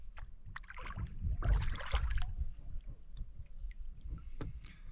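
Canoe paddling on a backcountry river, with soft splashing strokes and gurgling water close by, a louder burst of splash in the middle and quieter dips afterward, all over light wind noise.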